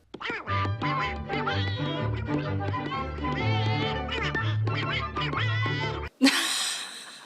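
A voice imitates Donald Duck, quacking repeatedly in a nasal, cartoonish rhythm for several seconds, followed by a brief bright burst at the end.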